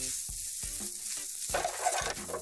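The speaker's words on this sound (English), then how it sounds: "I'm going to put in the rest of the butter. Let this kind of melt in here." Butter melting into a pan of green garlic-chive and kale risotto gives a steady close sizzle, with several soft stirring scrapes repeating through it.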